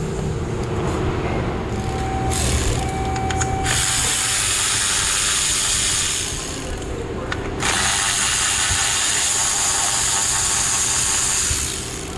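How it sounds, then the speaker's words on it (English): A ratchet clicks and whirs close by as ignition coils and spark plugs are removed from a misfiring engine, with bursts of tool ratcheting, metallic handling and a steady mechanical background. "I'm going to pull all these coils out and yank these spark plugs."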